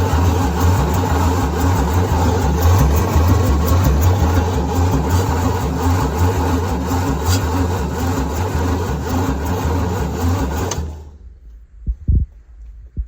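A 1975 White 2-150 tractor's diesel engine cranks slowly on the starter with a steady, labored rhythmic chug for about eleven seconds without firing, then stops, leaving a few faint clicks and knocks.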